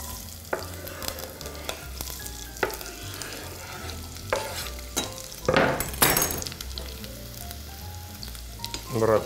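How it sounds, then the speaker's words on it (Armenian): Finely chopped broccoli stems frying in vegetable oil, a quiet steady sizzle broken by sharp clinks and scrapes of a utensil against the pan, with a louder burst of stirring midway. "Բուսայուղով տապակում ենք մանր կտրատած բրոկոլի ցողունը"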